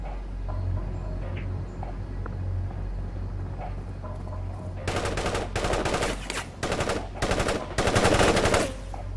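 Infantry gunfire from the real-time strategy game World in Conflict: low engine rumble and hum, then a loud run of rapid machine-gun bursts and rifle shots in clustered volleys, near and intense, with no talk.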